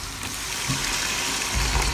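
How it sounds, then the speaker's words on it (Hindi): Water poured into keema matar (minced meat with peas) cooking in a pan, a steady watery rush and sizzle running throughout at moderate, even loudness with no talk. "पानी डालेंगे।"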